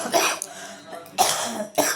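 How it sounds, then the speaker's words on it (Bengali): A person with a bad cold coughs three times in close, loud bursts separated by short pauses. "সরি বন্ধুরা, কাশি হচ্ছে"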